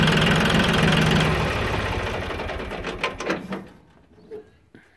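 Yanmar YM2020 compact tractor diesel engine running smoothly, loud and close for the first few seconds, then fading away with a few faint knocks and birds chirping in the background.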